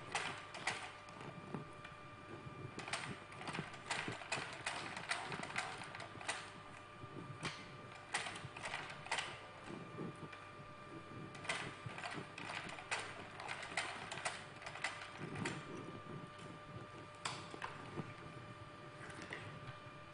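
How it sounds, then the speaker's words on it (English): A sewing machine runs along a half-inch fabric edge, with steady mechanical clatter and bursts of rapid stitching that start and stop, close and moderately loud, with no talking. "I'm going to sew the edge by half inch."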